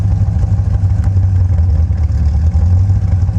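A 1985 Chevy Corvette engine idles through aftermarket Super Turbo mufflers with a loud, steady low rumble and a slightly uneven, pulsing exhaust note close by.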